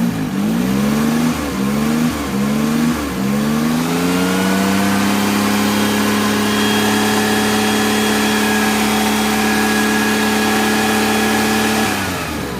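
A 2001 Maruti 800 car engine is revved several times in short bursts, then held at a steady high rev before dropping back, loud and close with no talking.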